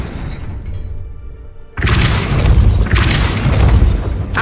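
Depulso spell cast in the video game Hogwarts Legacy, a sudden loud magical burst that erupts after a quiet stretch and is followed by a second forceful whoosh and lingering rumble.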